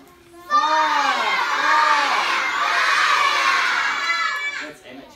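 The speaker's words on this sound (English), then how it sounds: "We yell, fire, fire, fire, and we get down, we get low, and we get out" A group of children shout together over and over in a fire safety drill, loud and close, with crowd-like cheering energy carrying through the whole burst.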